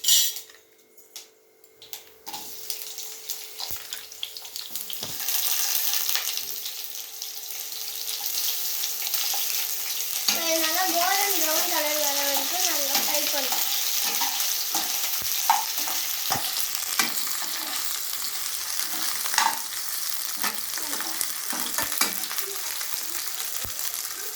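Chopped onions hit a hot pan and sizzle continuously while a utensil stirs and scrapes them, with frequent clinks and scrapes over the steady frying hiss.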